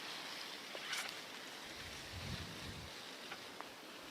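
A garden hose sprays water steadily over a layer of a backyard compost pile, giving a continuous soft hiss with a faint wind-like rush and no voices.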